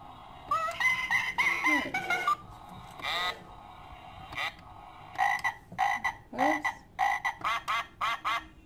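A string of short croaking calls, rapid and close, comes in uneven bursts with brief pauses between them.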